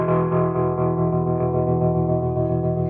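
Guitar played through a Lovepedal Baby Tremolo set to a slow triangle wave, a sustained distorted chord swelling and dipping in a smooth, steady pulse, loud and close with no talk.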